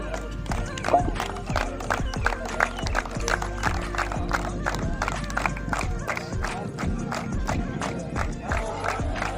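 Dense, steady applause welcoming a guest at a two-day hockey tournament held for Sports Day and Major Dhyan Chand's birth anniversary; many claps overlap evenly at close range for the full stretch, with a crowd murmuring underneath.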